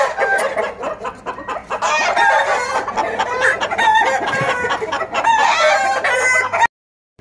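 Chickens cluck loudly and continuously up close while a rooster crows repeatedly, the racket cutting off abruptly near the end.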